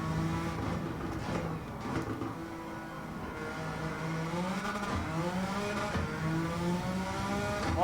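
Suzuki Escudo engine in Gran Turismo 7 at the Nürburgring Nordschleife with traction control off, droning steadily with rising and falling pitch through gear changes, loud and continuous with no talk.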